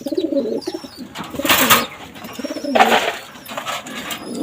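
Pair of double pigeons in a home loft coo repeatedly at close range, soft throaty rolling calls rising and falling in bursts with brief rustling between them.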